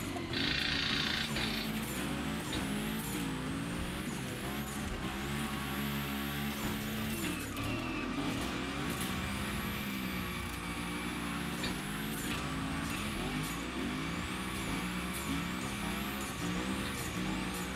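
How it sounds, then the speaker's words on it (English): Car engine revving and tyres squealing in continuous freestyle drifting with jumps in The Crew Motorfest racing game, a gymkhana event with Hoonigan; loud, steady and close throughout, with rising and falling engine pitch and no talk. "So I'm guessing it's more freestyle drifting."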